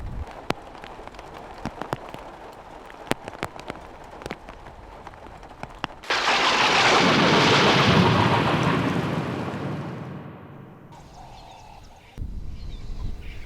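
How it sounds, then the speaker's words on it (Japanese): A thunderstorm breaks over the Botswana plains at the start of an early rainy season. Scattered sharp cracks come first, then a loud, broad roar of thunder and heavy rain swells, holds for several seconds, and slowly fades. "ボツワナに例年よりも1ヶ月早い雨季がやってきました"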